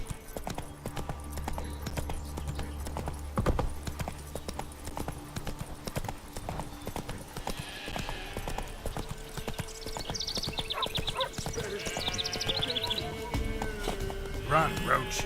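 In The Witcher 3 video game, a horse's hooves beat a steady galloping clip-clop throughout, mixed with game music and ambient sound. A horse whinnies partway through, and a voice speaks over the action.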